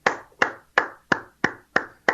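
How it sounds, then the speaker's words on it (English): Seven sharp hand claps in an even, brisk rhythm, close and distinct, given as praise with no other sound between them. "I just gave you the clap because that's how impressed I am."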